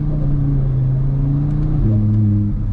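Audi RS3 accelerating on all-season tires in snow, a loud close engine rising in pitch through a gear change, heard from inside the car with no talk.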